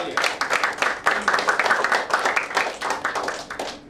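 Audience applause in a recruitment talk, a lively burst of many hands clapping at close range, sustained and uneven for several seconds.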